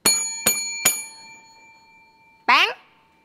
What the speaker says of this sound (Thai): กดกระดิ่ง3ที